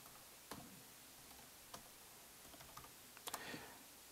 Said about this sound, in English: let's just type some numbers here